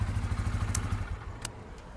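A Bajaj motorcycle engine idles nearby with a steady low throbbing beat and a few light clicks and clatters over it.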